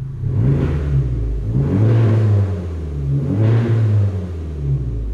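A Honda Civic Type R exhaust drones and swells inside the cabin in repeated waves of revving, low and muffled, with no talking.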